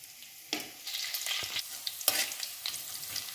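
Black cumin seeds and green chilies frying in hot oil for a leafy-greens stir fry, a bright crackling sizzle that bursts in as they hit the pan, with occasional stirring scrapes and no talking.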